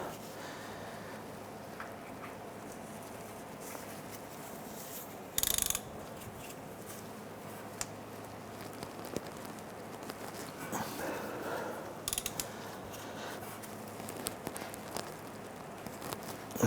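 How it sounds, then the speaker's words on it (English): An oil filter wrench grips and loosens a very tight oil filter on a 2006-2013 Chevrolet Impala, giving soft ratcheting and scraping mechanical sounds, close but quiet, with one louder clunk partway through. "And this will grab the tabs on the oil filter. Let's go ahead and loosen this."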